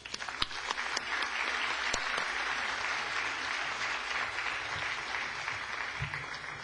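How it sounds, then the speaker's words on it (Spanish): Sustained audience applause fills a conference hall after a speaker is introduced, a dense, steady clatter of many hands clapping at even loudness throughout, with a few sharper individual claps standing out. "Recibámoslo con un fuerte aplauso"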